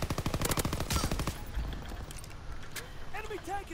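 Rapid automatic gunfire from a Call of Duty match rattles in dense bursts, then fades to scattered sounds and game effects, with voices talking over the action.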